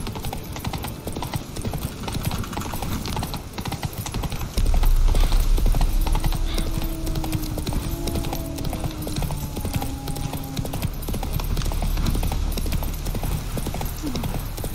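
Horse hooves clip-clop in a steady walking rhythm that sounds close and clear over outdoor background noise. The footfalls grow louder partway through, and faint brief tonal calls can be heard here and there.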